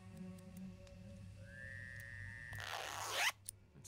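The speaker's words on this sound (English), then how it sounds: "The zipper on this cushion's stuck." A stuck zipper on a cushion in the video game Tesla Effect makes a rising whistle-like tone and then a quick, loud zip, close and alone over a quiet hum.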